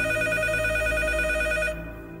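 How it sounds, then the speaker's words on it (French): Telephone bell ringing steadily at close range in a sustained electronic tone with bright harmonics, holding for nearly two seconds before the upper ring cuts off and only a softer hum remains. "Et un jour, le téléphone a sonné."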